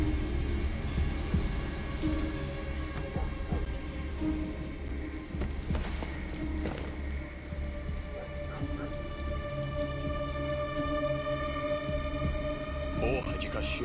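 Rain from the video game Detroit: Become Human pours in a steady, dense patter on surfaces, with a low hum and music underneath and occasional sharper splashes.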